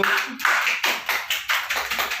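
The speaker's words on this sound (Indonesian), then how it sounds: "tepuk tangan untuk kelompok 1." Short burst of hand clapping for a presenting group at a training session, about seven or eight distinct claps in a loose rhythm, fairly close and moderately loud.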